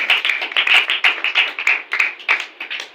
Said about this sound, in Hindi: अरे जोरदार ताली बजाएं खुदा के लिए।